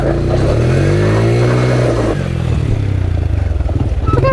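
An ATV engine revving loud and close during a burnout, rising then falling pitch, followed by a rough, pulsing throttle and clattering as the tires spin.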